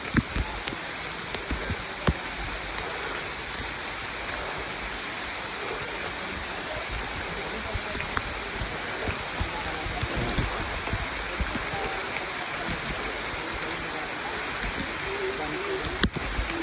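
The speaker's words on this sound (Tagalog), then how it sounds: "Mas maulan po ngayon." Heavy rain falls steadily on a mountain trail, a dense continuous hiss and patter with occasional sharper drops, while voices talk faintly in the background.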